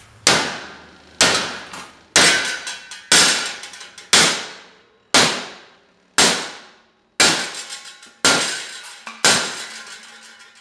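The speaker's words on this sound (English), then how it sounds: "I grabbed me a hammer." Hammer striking a bent metal part on a John Deere 140 garden tractor, about eleven sharp ringing clangs at a steady pace roughly once a second, loud and close, each decaying quickly.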